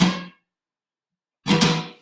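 Muted guitar strings raked with a pick give two short, scratchy percussive chucks, separated by a silent pause and heard alone up close.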